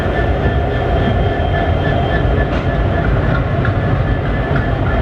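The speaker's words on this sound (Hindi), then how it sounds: "ट्रेन आ रही है लातूर रोड जंक्शन पर।" The YPR-LUR Express, an Indian passenger train, rolls into Latur Road Junction with a loud, continuous rumble of wheels on rail, faint rhythmic clicking and steady carriage noise, and no voices.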